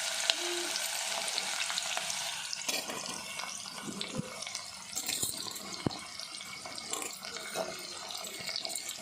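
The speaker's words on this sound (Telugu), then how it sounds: "చక్కగా ఉల్లిపాయ పచ్చిమిర్చి బాగా వేగాలి" Onions and green chillies frying in oil in a pan, with a soft, close sizzle broken by intermittent clatters and scrapes of stirring and a few sharp knocks.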